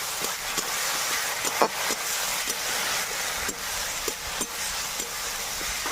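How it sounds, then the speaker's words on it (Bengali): Ginger, garlic and chili paste sizzles steadily in a hot pan while frying, a continuous hiss broken by occasional soft clicks and scrapes of stirring. "এবার এর মধ্যে দিয়ে দেব আদা রসুন লঙ্কা বাটা, দিয়ে ভালোভাবে মশলাটাকে কষিয়ে নেব"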